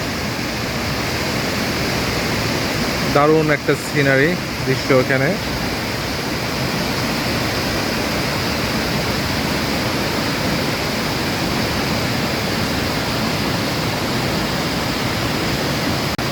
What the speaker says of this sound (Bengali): ওই যে নিচে ঝর্ণা পড়ছে, উপর থেকে সিঁড়ি থেকে ঝর্ণা পড়ে যাচ্ছে